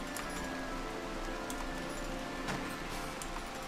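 Rain falls in the video game RimWorld, a faint, steady hiss of drops spread evenly throughout with no talking over it.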